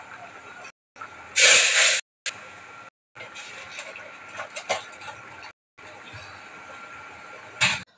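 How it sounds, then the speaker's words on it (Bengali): Garam masala and cumin paste dropped into hot oil, crackling into a strong hiss that then settles into steady sizzling, with clinks and scrapes of a pan and utensils. "এখন এই মশলাটা একবারে দিয়ে দিলাম, গরম মশলা আর জিরা বাটা।"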